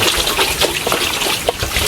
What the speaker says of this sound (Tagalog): Guys, ang lakas ng tubig dito.